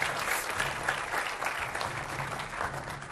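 Studio audience on a Hindi TV debate show applauds to welcome a guest panelist, a steady wash of many hands clapping that fills the room without a break.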